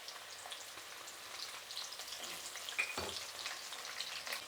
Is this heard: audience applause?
no